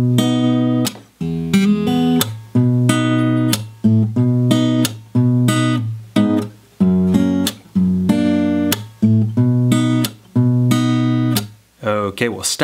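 Fingerstyle acoustic guitar with percussive slaps plays Swing Low Sweet Chariot, strummed chords in a steady rhythm broken by short pauses, close and loud, with no talking.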